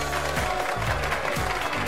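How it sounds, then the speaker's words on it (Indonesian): Audience applause at a seminar, a brief, fairly loud burst of crowd clapping with some low voices mixed in. "Tepuk tangan buat kita semua."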